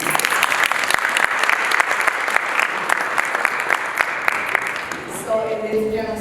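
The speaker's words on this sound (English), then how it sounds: "Can we all give him a round of applause?" An audience at a business expo general session applauds in a steady, dense wash of clapping that carries on for several seconds at an even, fairly loud level.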